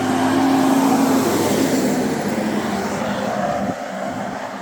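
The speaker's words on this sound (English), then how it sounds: "Listen to this truck." A passing truck on a foggy road in Akan-Mashu National Park, Hokkaido, giving off a loud, steady mechanical drone with a whining tone that eases off toward the end.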